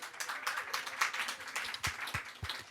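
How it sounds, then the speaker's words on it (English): A small audience at a conversation event at YouTube Space London giving a round of applause: a faint, continuous patter of many hands clapping, with a few sharper, closer claps near the end. "Yeah, round of applause"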